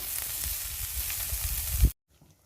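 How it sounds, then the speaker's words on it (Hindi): Vegetables sizzle and fry steadily in a pan for white sauce pasta, a continuous close hiss with faint stirring, cutting off abruptly into near silence at the end. "इसे इस तरह से आप सॉट करेंगे। हाफ कुक्ड होने तक इसे पकाना है हमें।"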